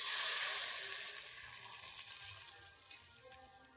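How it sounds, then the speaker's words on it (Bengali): Sago papads fry in hot oil with a soft, steady hiss and fine crackling sizzle, fairly quiet and close, tapering slightly over a few seconds with no talk. "আবারও আমি বেশ কয়েকটা ভেজে নিচ্ছি"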